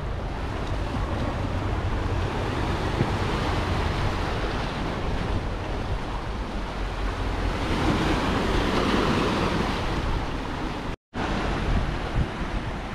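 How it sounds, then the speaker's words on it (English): Wind-driven high waves surge against a rocky Hong Kong coast at Ap Lei Chau under a high tide, a continuous loud roar with heavy wind buffeting the microphone and one brief dropout near the end. "it's pretty windy today, so the waves are pretty high"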